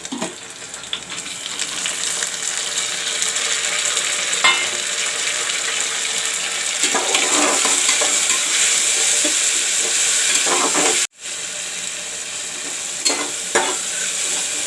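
Chopped tomatoes fry with browned onions in a pan for masoor dal, giving a steady, close, hissing sizzle with occasional stirring scrapes and a brief break near the end.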